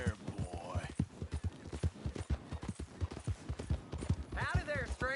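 In a video game, horse hooves clip-clop at a steady trotting rhythm, close and distinct, while voices talk over them and a brief whinny comes through near the end.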